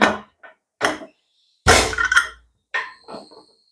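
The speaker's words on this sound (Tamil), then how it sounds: "மூடி போட்டு நம்ம மூடி வச்சிடலாம்." A few separate knocks and clatters, with one louder metallic clunk in the middle, as a pressure cooker lid is set down and locked over boiling rice and cowpeas.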